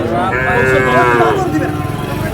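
A Sahiwal calf mooing at a busy cattle market, a single long, loud, close low moo over crowd noise.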